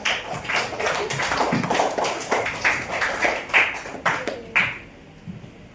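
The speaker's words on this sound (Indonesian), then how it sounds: "Beri tepuk tangan untuk Haji Wijaya." An audience at a coding and AI training session gives a brief round of scattered, sharp claps that thin out and stop near the end.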